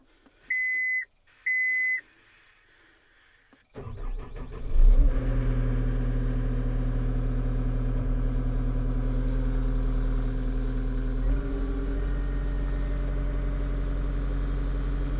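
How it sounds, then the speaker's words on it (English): A John Deere G-Series skid steer starts with two electronic beeps, then its engine catches and runs steadily at a loud, close, mid-pitched drone while the plow curls, with a slight change in load near the end. "just going to curl the plow off the ground here"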